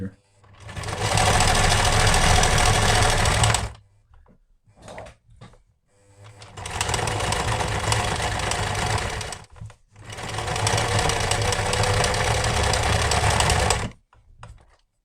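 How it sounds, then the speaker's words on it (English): A sewing machine stitches single seams on a waxed fabric tool roll, running in three long loud steady bursts separated by short pauses with small handling clicks and knocks. "I'm just going to put a single seam for each of these, all the way up to the other seam here."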